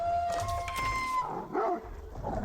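A dog attacking a longbowman in the medieval strategy game Age of Empires 4, a few short barks and yelps over tonal game sounds, brief and fairly close.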